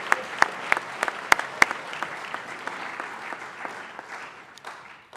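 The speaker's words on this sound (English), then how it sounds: "Please join me in another round of applause for your peers" Applause from an audience at a school assembly, steady clapping with a few sharp, close claps standing out early, gradually thinning and softening toward the end.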